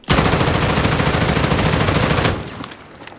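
Sustained automatic fire from an assault rifle in the Call of Duty video game, a rapid, loud, close burst of shots lasting a couple of seconds before cutting off into a short fading tail, with no talk.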